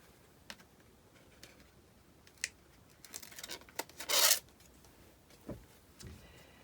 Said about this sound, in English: Gonna remove the backing of the score tape I put down.